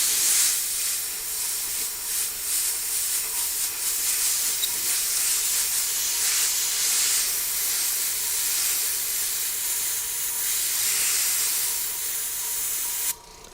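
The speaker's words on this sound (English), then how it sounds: "I'm going super light on the airbrush here, guys." An airbrush hisses a steady, light spray of paint close up, continuous for the whole stretch before cutting off abruptly at the end, with no voices.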